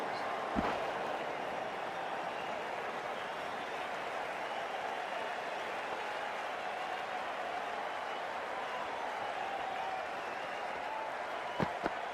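Faint, steady crowd applause and murmur from a cricket stadium in the video game Cricket 24, a continuous low wash with a couple of brief sharp clicks.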